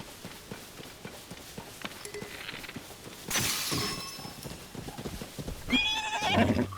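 Horse in the game Tears of the Kingdom, with rhythmic clip-clop hoofbeats at a steady gallop throughout and a loud whinny near the end, plus a brief shattering burst midway.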